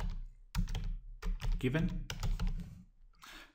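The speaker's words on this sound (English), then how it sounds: "Now we start typing in the if statement, just like we would in our Excel workbook." Computer keyboard keys clatter in quick bursts while entering a spreadsheet formula, separated by short pauses, with a person speaking over the typing.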